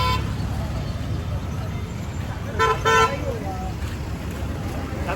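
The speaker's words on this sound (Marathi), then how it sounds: "एवढा बेकार आहे भाऊ ट्रॅफिक" Heavy city road traffic rumbles with a steady engine drone, and a few short car horn toots cut through near the middle. The horns sound close and loud over the busy roadway noise.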